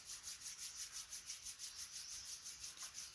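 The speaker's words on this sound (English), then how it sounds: "gently you can rub your palms" Palms rubbing together gently during a yoga breathing session, a soft steady swishing friction with a regular back-and-forth rhythm, close and quiet with no talking.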